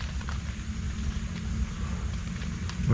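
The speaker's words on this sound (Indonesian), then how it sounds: "Di luar lagi hujan" Rain falls outside at night, a faint, steady patter and low rumble heard from indoors, continuous and without speech.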